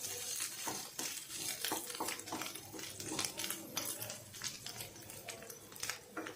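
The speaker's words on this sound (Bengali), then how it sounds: "2-3 মিনিট এভাবে নাড়ব।" Spiced dried loitta fish stirred and frying in a pan, with a steady close sizzle and repeated scraping strokes of a spatula against the metal throughout.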